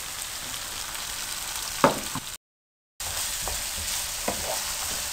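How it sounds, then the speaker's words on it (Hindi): Okra fries in hot oil with a soft, steady sizzle, broken by a brief silence and a few faint clinks of stirring. "भिंडियाँ मैंने तकरीबन 5 मिनट फ्राई की हैं।"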